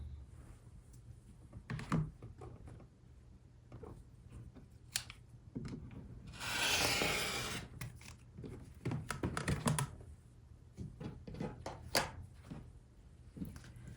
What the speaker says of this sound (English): we will cut on that diagonal line